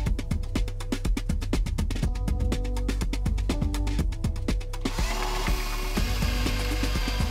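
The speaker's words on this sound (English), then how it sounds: "I could drill the dowel holes and the countersinks and pilots for the screws" A drill whirs and grinds steadily into wood with rhythmic pulsing, boring dowel holes, then shifts to a rougher, noisier drilling texture near the end.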